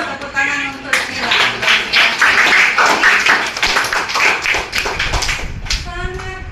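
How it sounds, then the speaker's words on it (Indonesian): Classroom applause for a student named Sila in a ninth-grade maths lesson, with a burst of loud, sustained clapping from the class lasting several seconds, trailing off at the end, with a teacher's voice briefly heard. "tepuk tangan untuk Sila"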